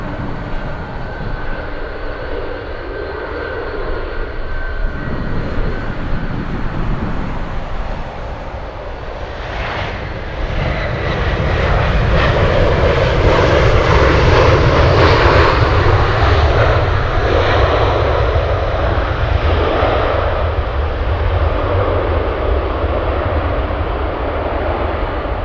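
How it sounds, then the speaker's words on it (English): Alaska Airlines Boeing 737 jet at Anchorage Airport on a gusty day, engine roar swelling from a distant whine to a loud, sustained rumble midway through and holding as the plane passes, with wind buffeting the microphone. "Let's go for the Alaska Airlines 737."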